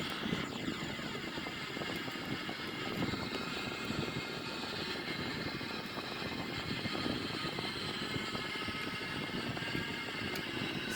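A Sukhoi-30 jet at high speed in a flight simulation gives a continuous loud engine roar with a steady whine, unbroken throughout and without speech.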